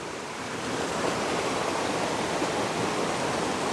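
Waterfall roaring steadily nearby, a dense continuous wash of falling water at a constant loud level with no breaks, no voices over it.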